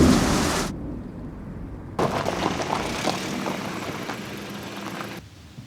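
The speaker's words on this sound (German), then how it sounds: "was für ein Gewitter da hinten aufzieht" Mountain thunderstorm building in the distance, with a steady broad roar of rain and wind and a low rumble of thunder swelling in the middle, after a short loud burst at the start.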